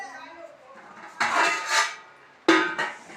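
Two loud metallic clanks of a two-kilogram cooking pot being set down on a hard surface, the second sharper, with faint room noise between.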